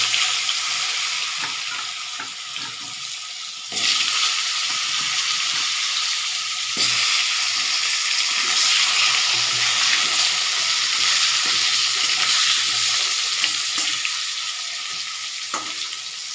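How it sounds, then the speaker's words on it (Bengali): Potatoes fry in oil tempered with black cumin for a Bengali katla fish kalia, giving a continuous loud sizzle that jumps up as the pieces drop in and then keeps crackling steadily close by, with no talking. "এবার আমি এই তেলে আলু দিয়ে দেবো। আলুটাও ভেজে নেবো,"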